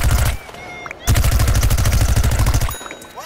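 Loud bursts of rapid gunfire from the video game Plants vs Zombies: Garden Warfare, two sustained volleys separated by a brief pause, close and dominant, with faint game effects underneath.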